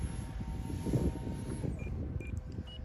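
A radio-controlled Batwing model airplane buzzes overhead with a steady engine drone, moderately faint and distant, holding a constant tone for a few seconds.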